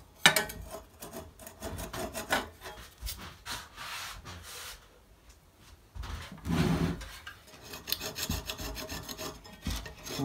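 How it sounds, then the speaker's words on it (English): Glue residue scraped off a belt and disc sander by hand, uneven rasping strokes in bursts with short pauses between, close and moderately loud, no speech. "If you've got a heavy bit of residue on there from the glue, you can actually scrape these off."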